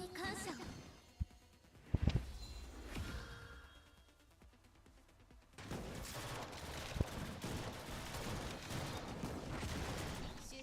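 Gunfire in the video game Blue Archive crackles in scattered shots and short bursts, followed by a sustained dense volley of rapid fire, with a voice talking over parts of it.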